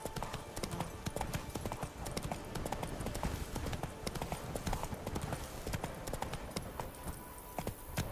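Roach the horse galloping in The Witcher 3: Blood and Wine, a dense steady drumming of hooves at close range, loud and continuous throughout.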